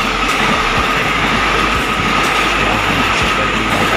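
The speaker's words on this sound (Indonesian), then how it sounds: "terlihat kereta datang melaju dengan cepat" An airport rail link train speeds through a very sharp curve, a loud, close, continuous roar of wheels and carriages with clattering rail noise and faint wheel squeal.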